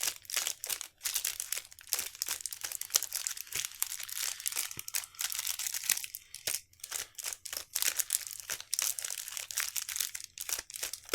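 Continuous crinkling and rustling of Magic: The Gathering booster pack foil wrappers being handled and torn open, busy irregular crackles close to the ear for several seconds.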